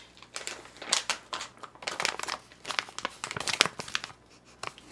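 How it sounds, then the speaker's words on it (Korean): A plastic zipper bag from a delivered jjamppong and tangsuyuk order is pulled at and crinkled open. Sharp, close crinkling bursts come in irregular clusters, loud and up front with no talking. "이거 지퍼백은 또 왜 안 열려"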